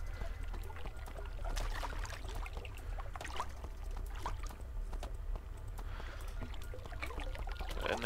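Water in the game Puddle sloshes and trickles in a quiet, continuous flow, with soft splashes and gurgles rising and falling over a low steady rumble.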